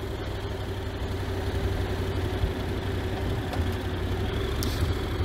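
A 2023 Honda NC 750X DCT motorcycle engine runs steadily on the road, a low, even mid-pitched drone with a faint rhythmic pulse, heard from the rider's position, with no talking.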